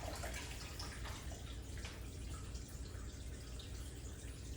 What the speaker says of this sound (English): Here there's just a little trickle of water as it comes up and recirculates and moves and slides down, hugging the bowl.